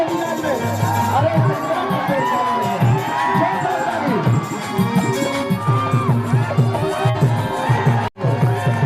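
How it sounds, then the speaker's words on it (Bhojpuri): A large crowd at a Bhojpuri stage show featuring Khesari Lal Yadav cheers, whoops and shouts loudly and continuously, a dense roar of many voices with little break. "खेसारी लाल यादव आपके बीच में जोरदार ताली बजाइए"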